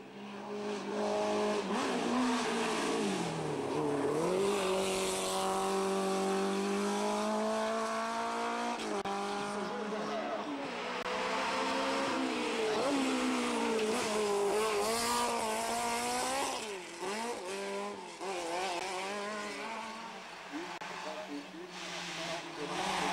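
Touring cars racing past with loud, sustained engine drones that rise and fall in pitch through gear changes, a steady roar of several cars under continuous commentary.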